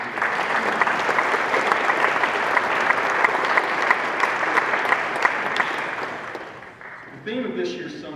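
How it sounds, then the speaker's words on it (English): Audience applause at an energy summit, sustained dense clapping that holds steady for several seconds before tapering, followed by a voice starting to speak at the end. "give yourselves, if you would, a big round of applause"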